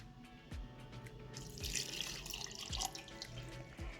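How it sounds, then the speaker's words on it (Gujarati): Milk pours into a glass for a gulkand shake, a soft running liquid stream with a few drips and splashes, close and fairly quiet, and no talking. "દૂધ નાખીશું."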